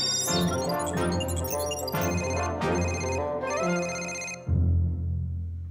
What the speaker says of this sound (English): Didn't you know that you can call Johnny straight from your computer?